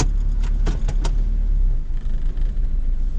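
A 1996 Toyota Corolla with a hard cylinder 1 misfire idles roughly, a low uneven engine rumble throughout, with a few sharp knocks or jangles early on and no talk.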